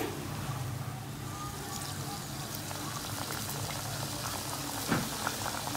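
Sweet mathri dough pieces deep-fry in a pan of oil over a low flame, giving a dense, even bubbling crackle that continues without a break, with one brief clink near the end.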